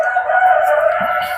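A laying hen on an integrated farm gives a loud, sustained drawn-out call close by, a single steady vocalization filling the short moment with faint low rumble beneath.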